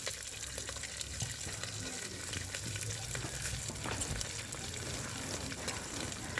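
Onions with crushed spices, cumin, bay leaf and dried red chilli frying in a pan for a mutton lung curry, a soft continuous sizzle with light scraping and stirring at a moderate, fairly quiet level.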